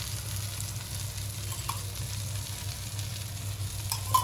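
Surmai (kingfish) pieces frying in a pan, Malvani style, a steady low sizzle with a faint hum underneath and a couple of soft clinks near the end, no voices.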